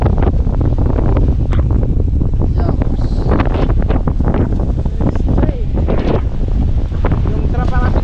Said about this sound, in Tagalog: gawa ng lakas ng hangin